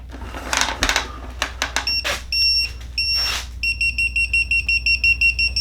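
A Weha voltage tester chirps in a run of short, bright, evenly spaced beeps, starting with a few separate tones and then settling into a steady rapid pulse, following some handling clatter.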